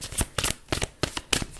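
Tarot cards being shuffled by hand, a run of crisp riffling bursts in a quick uneven rhythm, close and alone with no talk.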